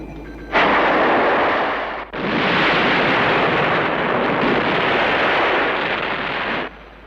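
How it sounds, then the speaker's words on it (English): An explosion destroying an island, as a film sound effect, delivered as a loud, sustained roaring blast with a brief dip after the first burst, then a continuous thundering rumble lasting several seconds before cutting off. "He's way too impressed by such a small explosion."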